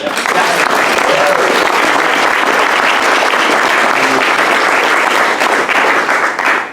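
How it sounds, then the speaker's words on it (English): Dense, loud applause fills a startup-event audience at a Startup Grind gathering in San Antonio, steady and sustained for nearly seven seconds with crowd murmur mixed in. "So, first of all, round of applause for that."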